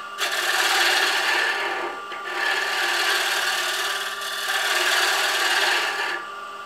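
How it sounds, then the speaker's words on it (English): Wood being cut parallel to the grain with a hand tool makes close, loud rasping strokes, three long sweeps separated by short pauses, with no talking. "I'm actually kind of cutting parallel to the grain"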